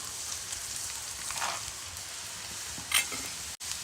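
Chillies, curry leaves and peanuts sizzle in hot oil, a steady bright crackling hiss with a brief louder spit near the end.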